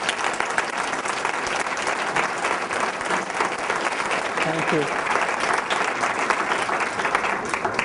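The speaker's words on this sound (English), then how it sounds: "how about another round of applause for our speaker?" Audience applause after a speaker series talk, steady dense clapping filling the room at moderate volume, with a brief spoken thanks near the end.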